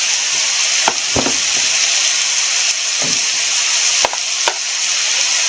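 Ground meat for biscuits and gravy fries loudly in a pan with a constant dense sizzle, broken by a few close utensil scrapes and taps against the pan.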